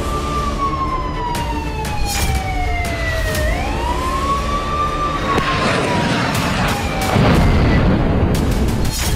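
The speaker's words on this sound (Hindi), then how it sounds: "सबसे नए सीरियल ड्रोन हमलों के बाद पहली बार पूरे मॉस्को शहर में खतरे के सायरन गूंजने लगे" Air raid sirens across Moscow wail, rising and falling across the clip, with a second tone layered above and dull booms and rumble underneath, after drone attacks.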